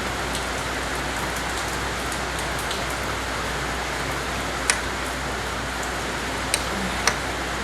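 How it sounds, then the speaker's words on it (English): Heavy rain pouring down in a steady hiss, with a few sharp drips or ticks standing out now and then. "I'm out here in the pouring down rain"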